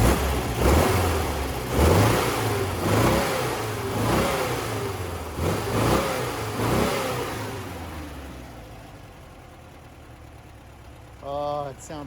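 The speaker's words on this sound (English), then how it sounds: "Here we are, idling away. That lovely Volkswagen sound." A Volkswagen Type 3 Fastback engine with rebuilt Solex carburetors revs up in a series of rhythmic throttle blips, then settles to a quieter idle, heard up close with a brief higher whir near the end.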